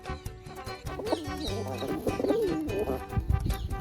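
A caught pigeon cooing with soft repeated throaty coos, close by, over a busy background of rustling and other bird sounds.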